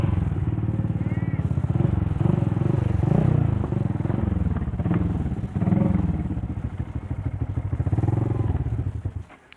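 Yamaha Vixion motorcycle being test-ridden, its mid-pitched engine droning loud and steady with rising and falling revs and some rattling, with talk over it.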